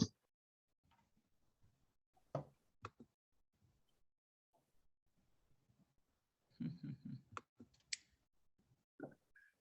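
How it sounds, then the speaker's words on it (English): Scattered mouse clicks on a share button, faint and close, coming as isolated ticks and a denser cluster of clicks partway through, amid quiet room noise and soft rustling. "I'm clicking on the share button, which is where I usually click to stop share."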